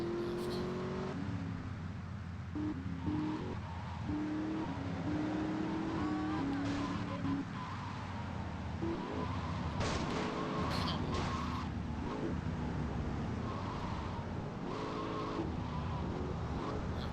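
A car drives and skids in the Grand Theft Auto: Vice City video game, its engine revving steadily while tires squeal in repeated bursts against traffic and street noise over a continuous roar.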